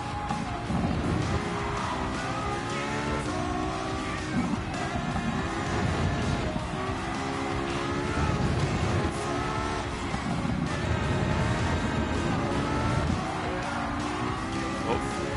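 A race car in Gran Turismo 7 roars continuously at high revs, the engine note rising and dipping through gear changes as it slides into oversteer, loud and close with steady tire and road noise throughout.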